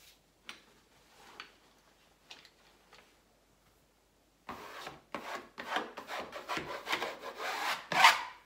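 Blade cutting and scraping along wallpaper at a skirting board, marked first with a spatula; faint scratchy strokes at the start, then a louder run of close rasping, rubbing cuts.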